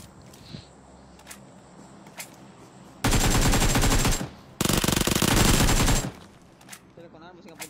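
Loud, sustained automatic gunfire from a video game, two long continuous bursts of rapid shots separated by a short pause, with quieter game sounds and faint voices around them.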